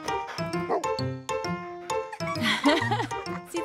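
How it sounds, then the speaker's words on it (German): A black dog barks several times in short, lively yips close by, mixed with children's speech and laughter in a cartoon scene. "Wuff, wuff."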